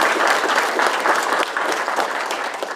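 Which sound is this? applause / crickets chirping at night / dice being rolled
applause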